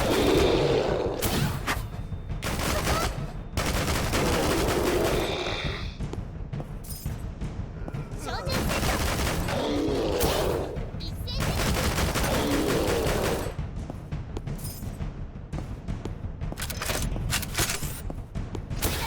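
Video game gunfire in a combat shooter: dense bursts of rapid shots and booming impacts, loud and nearly continuous, broken by short pauses, with some talk over it.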